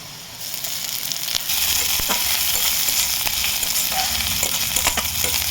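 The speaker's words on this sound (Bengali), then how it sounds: "আদা রসুনটা একটু ভালো করে ভেজে নেবো" Ginger, garlic and green chilli frying with onion in a pan, a loud continuous sizzle that swells after the first second and holds steady, with a few scraping stirs on top, close up.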